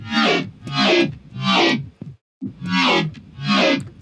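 Five heavy, distorted synth groans roll out in a steady rhythm, each swelling and fading, with one short gap of silence between the third and fourth.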